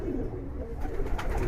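Pigeons coo in a loft, low and continuous, with rustling and a busier burst of activity in the second half.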